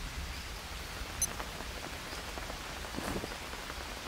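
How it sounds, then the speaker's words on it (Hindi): Heavy rain falls in a jungle in the survival game Green Hell. A soft, even patter keeps up throughout, fairly quiet, with a few sharper drips and one faint tonal blip, and no voices. "भाई बारिश हो रही है खतरनाक।"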